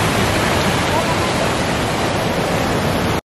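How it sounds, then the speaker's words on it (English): Steady, broadband roar of waterfall spray and falling water at a Norwegian fjord, loud and continuous throughout, with a brief dropout right at the end. "I don't know if it's rain or if it's a spit of the spray off of the waterfall."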